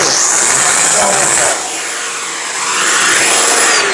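A 3-in-1 vacuum cleaner runs continuously with a steady, loud high-pitched whine and airy suction roar, dipping briefly in the middle as the suction changes, with no talk over it.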